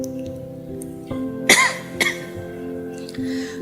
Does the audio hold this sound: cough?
yes